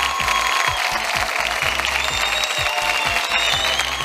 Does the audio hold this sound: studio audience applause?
yes